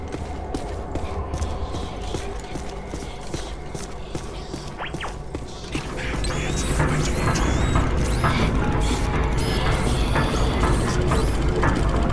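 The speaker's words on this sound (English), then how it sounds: "the machine they're working on was not built for a benign purpose. It's an orrery, a device typically used for predicting planetary alignment" An orrery machine in the remastered Ghostbusters video game whirs and creaks with rhythmic ratcheting clicks and grinding gears, growing louder and busier halfway through with squeaky metallic chirps layered over a rumbling drone.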